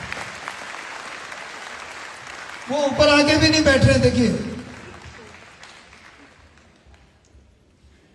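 A seated audience at an Indoor heart club health session in Indore claps in a broad, steady wash. A voice speaks over it briefly, and the clapping fades to a low murmur.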